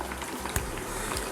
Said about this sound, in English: let's just leave the plantains there frying nicely there